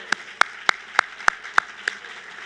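Rhythmic hand claps at a mayor's State of the City event after a singer's performance: about seven sharp, evenly spaced claps, fairly faint and steady, with no talk over them.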